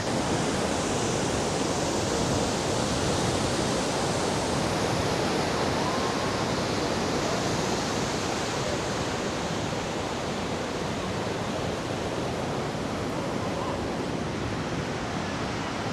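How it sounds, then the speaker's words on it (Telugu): A Himalayan waterfall on the mountain road between Dirang and Tawang near Sela Pass roars as a steady, dense rush of falling water, loud and unbroken throughout, with no voices. "ఈ వాటర్ ఫాల్స్ నా భూతో నా భవిష్యత్తు అన్నట్టుంది ఇది"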